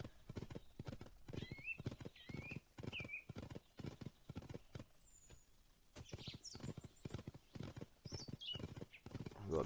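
Horse hooves clip-clop steadily in an Unreal Engine video game, a regular walking rhythm through a procedurally generated forest with occasional whinnies, briefly pausing midway before resuming.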